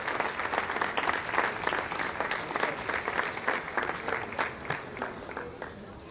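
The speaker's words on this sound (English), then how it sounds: "Lots of applause here in the Jupiter Control Center." Applause fills the Jupiter launch control center after an Arianespace VA250 launch, with many people clapping unevenly together. The clapping is moderately loud and close and fades slightly toward the end, with faint talk mixed in beneath it.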